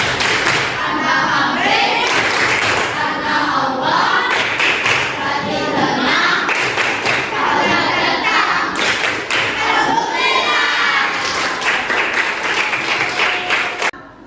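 Schoolchildren in a classroom perform the rhythmic 'tepuk ikhlas' clapping chant, loud patterned claps and thumps in sync with their chanting voices, continuing steadily throughout.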